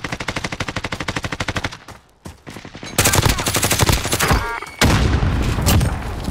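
Rapid machine gun bursts in a first-person shooter video game, loud and close, running in fast repeated volleys with a brief lull before heavier sustained firing resumes.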